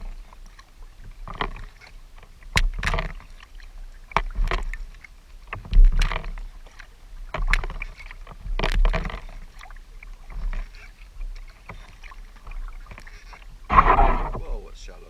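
A kayak is paddled on Ullswater, with rhythmic splashing strokes about every second or two, soft water swishes between them and occasional louder splashes.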